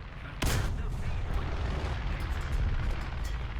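A tank cannon fires in a video game, one sharp booming blast that cuts in abruptly and then trails into a rumbling, noisy tail.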